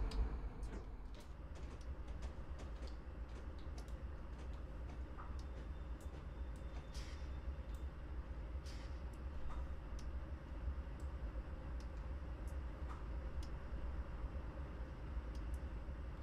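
Train running in a video game simulation of Cajon Pass, a steady low rumble of wheels and engine throughout with faint clicks and rail noise, no talk.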